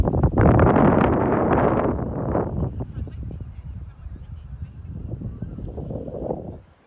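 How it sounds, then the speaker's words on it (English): Strong wind buffets the microphone in loud, roaring gusts at Hastings, England, easing slightly midway before swelling again, with no voices. "Really windy"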